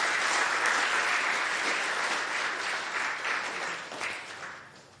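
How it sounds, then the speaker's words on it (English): Sustained applause from an audience at a dairy farming awards ceremony, honoring award recipients; a steady, dense wash of many hands clapping that fades gradually toward the end. "let's give them one last round of applause"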